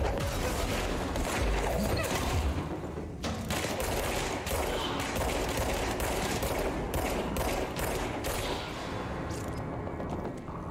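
Sustained gunfire in the action video game Control, with dense bursts of rapid shots and clattering impacts that run continuously and loudly across the whole stretch.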